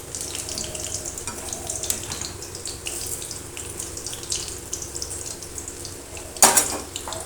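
Besan fritters fry in hot oil with a steady, soft hiss that runs throughout, ending in a brief sharper clatter close by.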